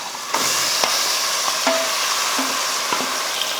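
Marinated chicken goes into a pan of frying onions and crackles loudly in a dense, steady sizzle, with occasional sharp pops and stirring clicks close by.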